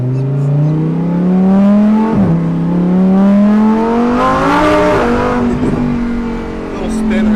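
A Lamborghini Huracan STO with a Performante-type engine revs hard during a wheel spin, its loud close engine note climbing in pitch with two brief dips and recoveries.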